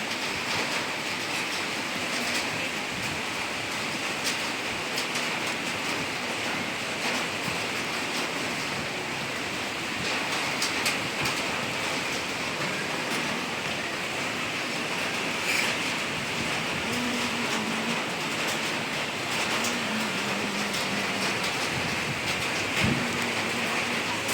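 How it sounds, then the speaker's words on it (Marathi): Steady, dense monsoon-style rain falls without pause onto a balcony gallery, a constant broadband hiss with faint low sounds underneath. "अचानकच पाऊस पडायला लागलाय"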